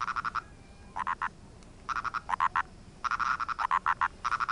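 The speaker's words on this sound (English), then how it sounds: "Yes, we finally have the purple frog." A purple frog (Nasikabatrachus sahyadrensis) calling up close, loud repeated bursts of short clucking croaks in quick clusters with brief pauses between, over a faint hiss of background noise.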